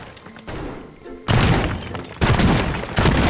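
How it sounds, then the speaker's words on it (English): Heavy booming blasts from a shotgun in the voxel destruction game Teardown, loud and close, with a sharp onset at about 1.3 seconds and another around 2.2 seconds, each followed by sustained crunching debris noise. "I am an artist with my shotgun"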